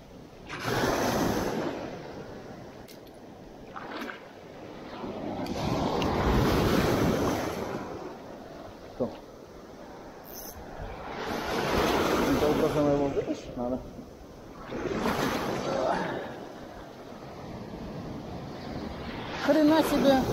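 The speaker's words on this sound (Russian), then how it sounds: "Блин, волны." Sea waves roll in and break on the shore at Ashkelon, rising and falling in several slow surges with wind buffeting the microphone throughout.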